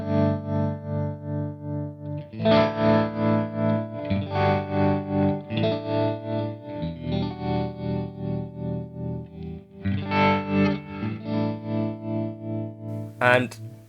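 Walrus Audio Monumental stereo harmonic tremolo with the depth turned up, pulsing a sustained distorted electric guitar chord in a steady rhythmic swell and dip, loud and close, playing alone with a final strummed accent.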